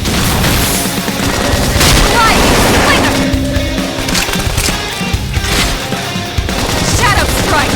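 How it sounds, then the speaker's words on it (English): A grenade goes off in Xenoblade Chronicles X amid loud combat, with booming blasts and crackling bursts layered over dense, continuous battle noise and game voices. "Grenade!"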